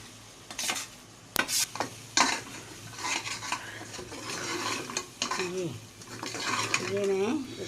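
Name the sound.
roasting flax seed ladoo mixture in syrup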